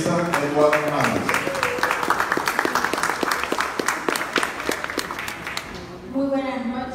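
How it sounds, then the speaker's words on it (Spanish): An audience at the opening ceremony of Lima Design Week 2018 gives loud, sustained applause of sharp, dense claps, with a speaker's voice briefly at the start and again as the clapping dies down. "pido un fuerte aplauso"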